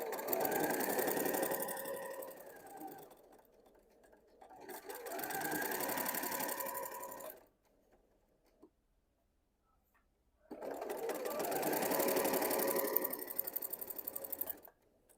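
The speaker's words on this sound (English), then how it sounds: "we're going to sew that with a 1/4" seam" A sewing machine runs a quarter-inch seam on a quilt-as-you-go mug rug in three separate, even bursts of rapid stitching, with near silence between them.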